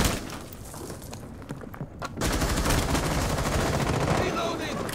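Sustained automatic gunfire in Rainbow Six Siege, loud close bursts that briefly drop off and then resume in a heavy continuous volley, with faint player voices under the shooting.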